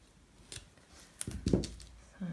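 Scissors snip through extra cardstock in a few quiet, crisp cuts up close, with brief rustling between them.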